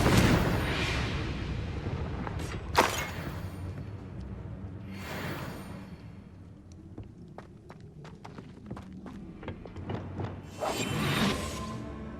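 Fiery Confringo spell blasts from the Hogwarts Legacy video game, a few loud whooshing bursts with explosive impacts at the start, middle and end, separated by lighter clicking and rustling game sounds.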